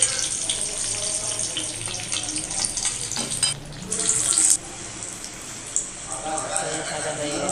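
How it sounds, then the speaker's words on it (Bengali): Pumpkin pakoras made with gram flour batter fry in hot oil, giving a steady loud sizzle and crackle throughout, with a brief louder hiss midway and a voice speaking over it. "তারপরে এটাকে ভালো করে ভেজে নেব।"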